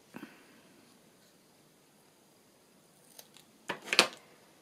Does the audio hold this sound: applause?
no